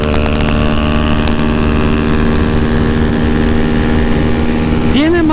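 A Pulsar N250 and a Benelli TNT25N ride together, their engines a loud, continuous droning roar buffeted by wind noise, with the engine pitch swooping upward near the end as a rider revs.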